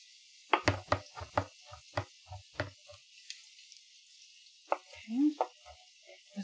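A knife chops mushrooms on a cutting board in a home kitchen. Close, crisp knocks come in a quick run of about a dozen strokes, pause briefly, then a few more follow.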